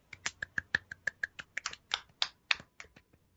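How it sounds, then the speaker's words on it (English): A quick run of about fifteen light hand claps, close and crisp, slightly irregular in pace and fading at the end. "That was the most insincere clapping that I think I've ever done."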